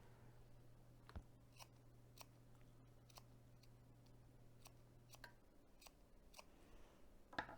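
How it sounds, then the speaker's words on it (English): Sharp scissors snip small V notches into curved fabric seam allowances of a sewn cargo pocket for a bag, giving a run of crisp, separate cuts spaced about half a second apart, close and quiet over a low steady hum. "I'm just going to cut small little V's"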